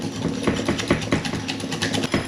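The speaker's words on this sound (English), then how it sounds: "I'm going to give it a light whisk." Egg whites with sugar are lightly whisked in a bowl, giving a quick run of rhythmic, evenly spaced clicking strokes, close and fairly loud, with no talking.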